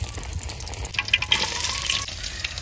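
Lentils and chili in a pan of hot oil in a village kitchen sizzle and crackle loudly, with irregular pops and spoon stirring over a continuous fry, no voices.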